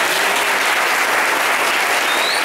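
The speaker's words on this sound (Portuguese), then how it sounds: "uma salva de palmas bem forte para" Loud, sustained applause from a church congregation at a First Communion service, dense clapping that fills the whole stretch evenly without pauses.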